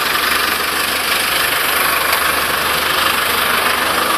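A car engine droning steadily while driving, loud and unbroken, with a constant low rumble and broadband road noise throughout.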